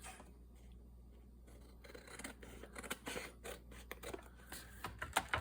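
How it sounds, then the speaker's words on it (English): Scissors trim paper during a craft project, giving a string of quiet, close snips and crisp cuts that grow busier toward the end, with no talking. "This just needs to be trimmed a bit."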